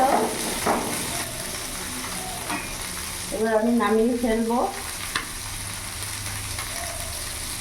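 Flattened pieces of fresh bata fish sizzle steadily in a hot frying pan with some stirring, while a voice speaks briefly over the frying.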